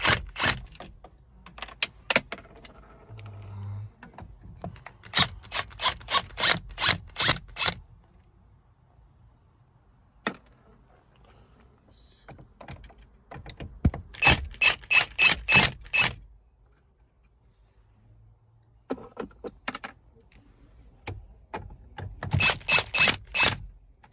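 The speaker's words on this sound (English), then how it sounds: "So then it's just some Phillips Phillips head screws. So 1, 2, 3, 4. Let me grab those and get that removed." Phillips head screws being removed one by one from the dash of a 2008-2020 Dodge Caravan SE, heard as close bursts of rapid ratcheting screwdriver clicks in repeated runs, separated by quieter handling noises, with no talking.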